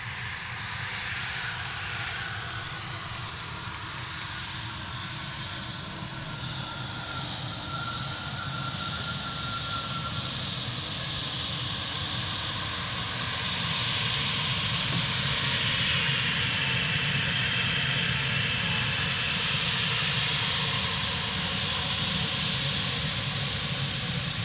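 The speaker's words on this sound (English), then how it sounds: "Air France HOP just arrived at Manchester as well." An Air France HOP regional airliner arrives at Manchester Airport. Its engines drone steadily and loudly for the whole stretch, with a broad rushing roar that swells a little toward the end. No voices are heard.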